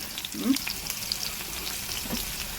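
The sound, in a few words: chopped onion frying in hot oil in a cast iron kadai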